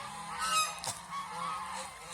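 Geese honk on a goose farm, several fairly loud, nasal calls overlapping against a steady background hum, with no talking.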